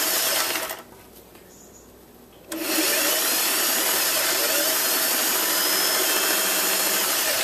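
Serger sewing machine stitching tutu fabric, running in a loud, steady high-speed whir that stops briefly and then starts again, close and continuous.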